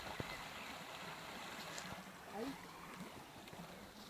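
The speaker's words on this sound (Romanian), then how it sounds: "apă și cum curge." Water flowing steadily through a gravelly stream bed after a storm, a continuous broad rush heard outdoors at moderate distance, with faint voices and brief knocks over it.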